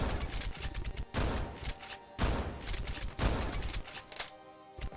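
Shotgun blasts in the parkour video game Overly Hardcore Parkour, several loud broadband bangs fired in quick succession with short gaps, each ringing out briefly before the next, with no talk over them.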